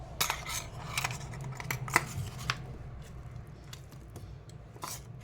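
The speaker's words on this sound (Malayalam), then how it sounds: "എടുത്തു വച്ചിരിക്കുന്ന വെളുത്തുള്ളിയും ഉള്ളിയും ജീരകവും കൂടി ഇട്ടിട്ട് ഒന്ന് ചതച്ചെടുക്കാം." Garlic, onion and cumin are crushed together, with irregular clinking and scraping taps, close and moderately loud, repeating over a few seconds.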